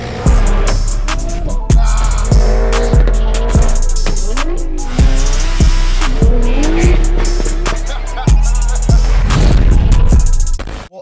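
A BMW F80 M3 makes a launch-control start from 4,000 RPM: a very loud, close engine roar with tire squeal, rising through repeated gear shifts, each marked by a sharp crack.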